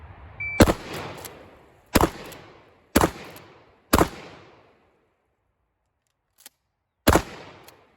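Shotgun blasts during a Sym-Tac shotgun skills gauge run: five sharp, loud reports spaced about a second apart, a pause with a faint click, then one more shot, each with a short ringing decay.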